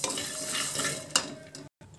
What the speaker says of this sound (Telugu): ఇప్పుడు జీలకర్ర మెంతులు ధనియాలు వేసుకొని మాడకుండా వేయించుకోవాలి లో ఫ్లేమ్ లోనే ఉంచుకొని